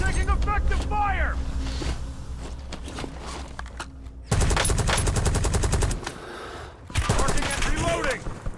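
Bursts of automatic gunfire in the game Warzone, loud rattling volleys that come in two main stretches over a bed of game ambience, with a voice talking in the mix.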